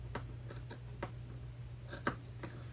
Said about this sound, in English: I'm going to snip it, but not cut into my seam